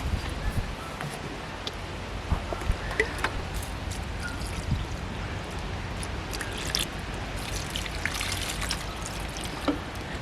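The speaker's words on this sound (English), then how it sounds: "So same again, watering can, and this is going on the jalapeno chillies" Water poured from a watering can onto jalapeno chilli plants in outdoor pots, heard as a steady, close trickle and splash that runs on continuously with no talk.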